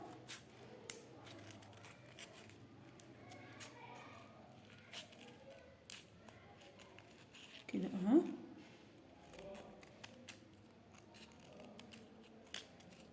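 Thin scissors snip strips of paper for decorating pens, a series of quiet close cuts and rustles scattered through the clip, with someone talking softly between them.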